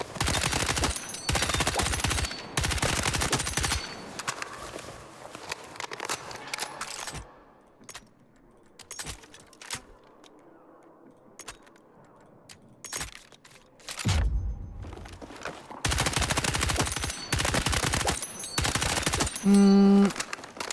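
Burst-fire gunfire in an online shooter video game, sharp repeated clusters of shots packed at the start and again at the end, with a quieter lull of faint game ambience in between.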